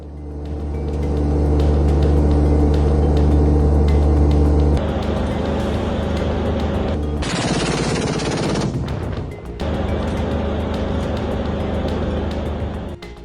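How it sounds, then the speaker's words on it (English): A remote-controlled 35mm Oerlikon Revolver Gun Mk3 air defense cannon fires in Ukraine, loud sustained bursts of rapid rounds with a brief pause between them and a heavy mechanical drone throughout. "The Oerlikon Revolver Gun Mk3 is a remote-controlled 35mm air defense cannon designed for quick and precise response against aerial threats."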